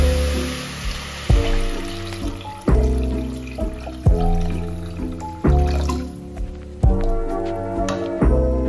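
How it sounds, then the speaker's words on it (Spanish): Water pours from a tap into a pan of softened, gently cooked vegetables, arriving in several repeated bursts with splashing and a rising fill tone, close and fairly loud, with no talking. "Bastante pochadita la verdura, añado agua suficiente."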